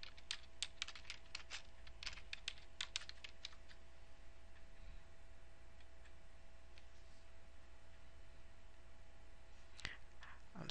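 A search term being typed on a computer keyboard, quick irregular clicks in bursts over a quiet room hum, ending with a couple of sharper key taps.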